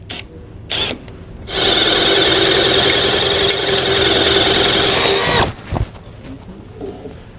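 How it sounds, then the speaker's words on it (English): A power drill whirs steadily for several seconds at close range, drilling out a hole while installing Roadmaster Comfort Ride shock absorbers on a 2021 Coachmen Apex Ultra-Lite trailer, with brief starts before and a few clicks and bumps as it stops. "So we're just gonna drill this guy out"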